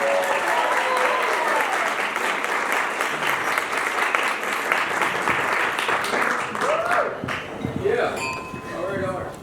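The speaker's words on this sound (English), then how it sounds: "Can I ask you to give him a big round of applause for our first Lewicki?" Wedding reception guests applaud the father of the bride with a dense, sustained round of clapping that fills the room, glassware clinking faintly and voices murmuring beneath it.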